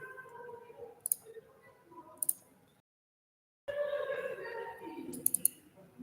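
Mouse clicks sound close and sharp during computer work, a few single and double clicks spread across the clip, with soft voice and room noise between them and one silent gap.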